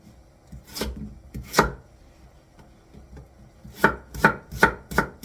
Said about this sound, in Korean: 무 300g을 나박나박하게 썰어 줄 거예요.